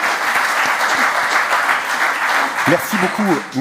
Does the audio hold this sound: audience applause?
yes